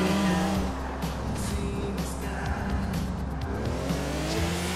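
Car driven in the video game Grand Theft Auto IV, with a steady engine roar and squealing tires as it slides and struggles to handle, loud and continuous throughout.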